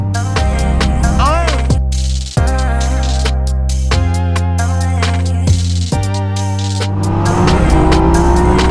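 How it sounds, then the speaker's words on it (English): A 2016 Yamaha FZ-09 motorcycle engine revving hard and accelerating through several gear changes, loud and close, the pitch climbing and dropping with each shift. "I'm getting to take out a 2016 Yamaha Fz09."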